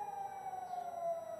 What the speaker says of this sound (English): I haven't heard a siren like this